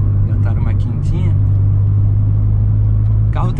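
A turbocharged Ford Ka 1.6 pulls hard after shifting into fifth gear, its engine drone and road rumble loud and steady from inside the car while a person talks over it.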